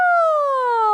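A voice imitates a falling shooting star with a single smooth, sustained tone that glides gradually from high to lower pitch, loud and clear with no other sound.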